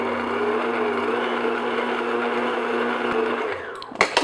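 An electric mixer beats egg yolk batter for a strawberry Breton tart, a steady whirring hum that cuts off near the end and is followed by a few clinks and clatters in the bowl.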